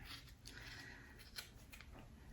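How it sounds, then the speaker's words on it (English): Scissors cut through the end loop of a yarn pom pom made for Christmas gift wrapping. The snips are soft and faint, a few quiet crunches against a hushed room. "you're gonna take your scissors through the whole thing and you're gonna cut through the end loop"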